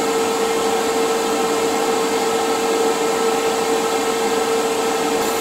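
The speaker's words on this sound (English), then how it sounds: "When we reach our vacuum target, we start the 15 minutes of extended evacuation time." A vacuum pump runs steadily while evacuating an air-conditioning system at a charging station on a job, a loud, constant droning hum with a fixed tone and no pauses.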